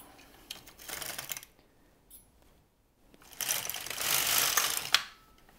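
An LK-150 knitting machine carriage is pushed across the needle bed to knit a row, giving two bursts of ratcheting mechanical clatter separated by a short pause, close and fairly quiet.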